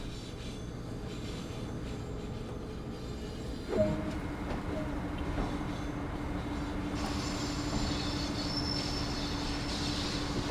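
Train running on rails in the Train Sim World 2 game on the NEC Boston–Providence line, a continuous low rumble with a brief clunk partway through, then a higher whine and hiss as the sound shifts.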